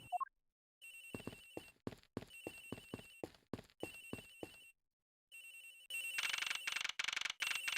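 A telephone rings in a video game with a rapid electronic trill in repeated bursts separated by short pauses, closing in a denser, louder stretch of ringing, with no voices.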